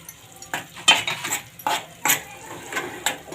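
Wheat flour being stirred in a hot pan over a low flame makes repeated scraping strokes of a spoon against the pan, with soft clinks at an uneven rhythm, close and fairly loud, and no speech.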